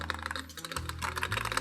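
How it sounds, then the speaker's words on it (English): Rapid, continuous typing on a 1stplayer GA87 gasket-mounted mechanical keyboard, modded, with crisp close key clacks in a fast even patter and no voices. "This sounds like a very expensive keyboard now"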